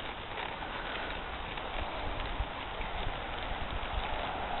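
Hooves of a red roan Appaloosa colt on its first ride, walking in a steady clip-clop rhythm at close range over a constant broad background hiss.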